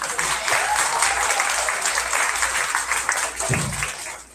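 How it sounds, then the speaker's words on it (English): Graduation ceremony audience at an ADAC summer school applauding the graduates: dense, sustained clapping from a sizable crowd, steady and loud throughout with a brief dip near the end. "Let's give them one more well-deserved round of applause."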